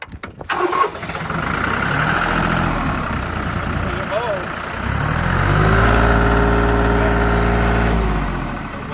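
A Branson TYM 2515H compact tractor engine starts with a sharp crank, then idles with a steady, loud diesel rumble that rises slightly in pitch partway through, as if the throttle changes, and voices talk faintly under it.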